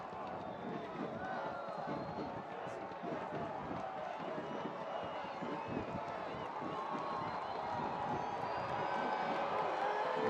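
Crowd at Lancaster Municipal Stadium during an AV Alta FC vs LAFC U.S. Open Cup soccer match, rising to its feet with cheers and shouts as a corner kick comes. The noise is distant and steady, with talk over it.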